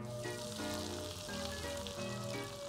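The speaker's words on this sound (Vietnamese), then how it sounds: "Tiếp tục chiên hết cái phần sườn chay." Vegetarian ribs fry in a pan of oil with a steady, soft crackling sizzle, heard faintly under quiet background music with no talk.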